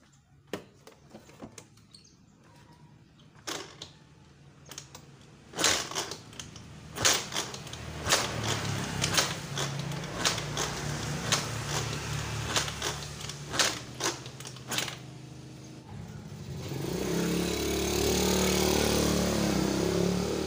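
Repeated kick-starting of a Yamaha Mio Sporty scooter that won't start: a series of sharp mechanical clacks and brief cranking bursts close by, followed by a steady hiss, with no voices.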